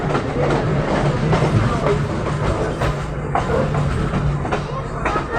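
Steady, loud rumble of a train rolling along the rails, with a continuous low drone and faint rhythmic clatter heard from inside a carriage.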